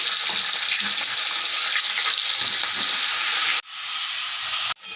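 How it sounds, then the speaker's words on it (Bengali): Fish heads coated in salt and turmeric frying in hot oil, a loud, dense, close sizzle that runs steadily and dips sharply twice near the end. "নুন হলুদ মাখানো হয়ে গেছে, এবারে ছেড়ে দেব মাছের মাথাগুলো।"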